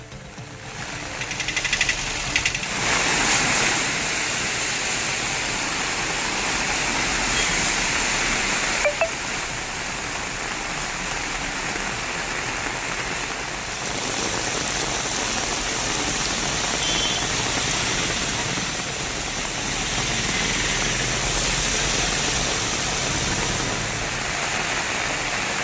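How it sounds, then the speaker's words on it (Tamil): Heavy rain pours steadily during a two-hour downpour in Tamil Nadu, a dense, continuous hiss of water hitting surfaces that holds constant and loud throughout, with no voices. "சுற்றுவட்டார பகுதிகளில் 2 மணி நேரம் கனமழை பெய்தது"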